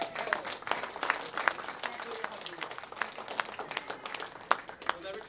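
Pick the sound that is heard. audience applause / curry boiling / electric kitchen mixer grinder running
audience applause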